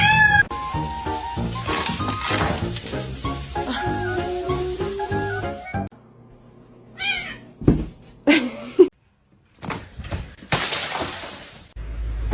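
A kitten mews several times in short, high, bright calls, mixed with brief clattering and a sudden crash like breaking glass, with quiet gaps between the bursts.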